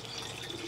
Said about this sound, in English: we're going to pour some water in on top of that